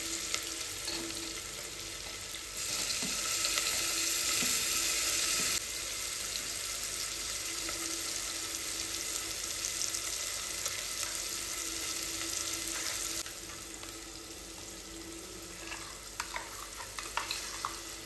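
Onion fries in a pan of spinach bhaji, giving a continuous close sizzle with light stirring and scraping, moderately quiet throughout.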